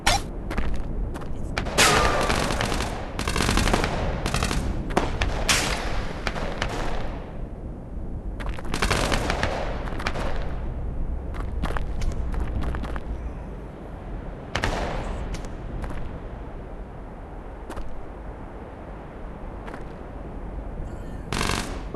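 Enemy gunfire in the Tactical Assault VR shooter rattles out in loud repeated bursts and single shots during a two-player co-op round, with thuds between volleys and occasional lulls.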